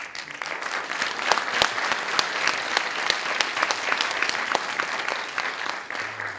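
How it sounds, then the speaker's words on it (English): Audience applause fills a National Assembly hall at a Seoul peace convention, a dense, steady wash of many hands clapping with sharper individual claps standing out, sustained throughout and tapering slightly at the end. "A round of applause."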